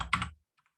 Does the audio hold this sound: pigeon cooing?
no